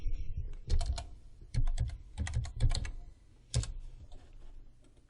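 Computer keyboard typing in short bursts of clicky keystrokes, loud and close, separated by brief pauses, with no talking.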